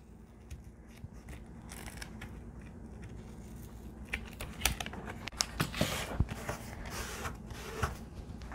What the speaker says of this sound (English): before I stick it down, I'm going to cut this piece off.